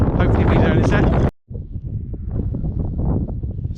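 Wind gusts buffet the microphone on the open Mynydd Troed mountain ridge, a loud roar that cuts out abruptly, then returns as lighter rumbling and rustling while someone talks.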